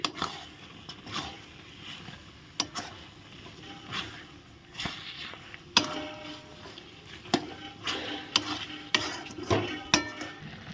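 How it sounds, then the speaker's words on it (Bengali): Pieces of elephant apple, or chalta, are stirred in a pan for a pickle. A spoon makes repeated scraping clacks and soft scuffs against the pan over a faint sizzle. "এখন চালতাগুলো দিয়ে ভালো করে নেড়ে চেড়ে দিচ্ছি"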